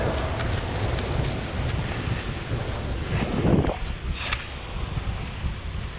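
Rushing water of a flooded river with a steady, dense roar close by, mixed with wind buffeting the microphone and a few splashes.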